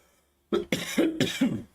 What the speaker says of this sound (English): sorry if I'm coughing and shit